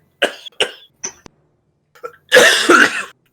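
After inhaling liquid, someone gives a few short, close coughs and a small throat click, then breaks into a longer, harsher coughing fit, loud and alone.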